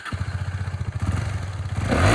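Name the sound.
KTM Duke 250 2021 motorcycle engine sound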